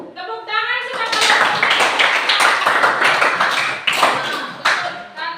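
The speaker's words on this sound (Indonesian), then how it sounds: "Tepuk tangan silakan" A class of students claps in a classroom, a loud sustained burst of many hands with uneven sharp peaks, following a brief voice at the start and easing off near the end.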